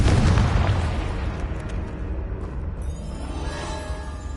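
A deep, loud explosion from a Confringo blasting spell in Hogwarts Legacy on PS4 opens with a heavy boom, then rumbles and fades into quieter game ambience.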